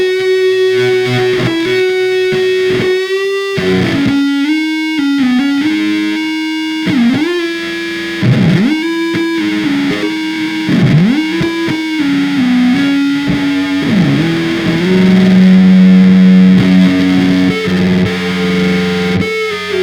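An electric guitar through a Big Muff fuzz in Amplitube Metal plays heavily distorted sustained notes and bends, thick and loud, ending on a long held note with no talking.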